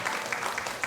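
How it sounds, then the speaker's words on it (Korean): A church congregation claps briefly to welcome a newly registered member, a short burst of moderate applause from a small indoor gathering. "우리 큰 박수로 환영하도록 하겠습니다."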